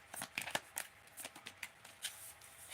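Tarot cards are shuffled in quick riffling bursts, a series of crisp, papery flutters and taps close by with short pauses between them.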